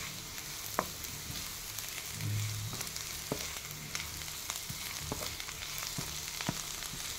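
Chopped ivy gourd and grated coconut frying in a pan with chilli powder give a steady, dense sizzle. It is joined by occasional sharp pops and a brief stir partway through, close and continuous without talking.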